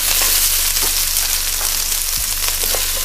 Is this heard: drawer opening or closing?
no